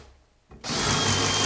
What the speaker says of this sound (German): kannst du ein bisschen schneller bohren?